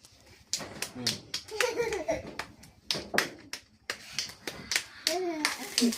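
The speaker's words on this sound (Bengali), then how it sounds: "হাততালি দাও" Children clap their hands at a birthday party in uneven bursts of claps, mixed with excited kids' chatter and some laughter close by.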